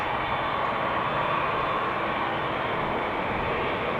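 Airliner rolling off the runway after landing at Amsterdam Schiphol, a steady, fairly loud broadband engine roar and rumble that holds even throughout.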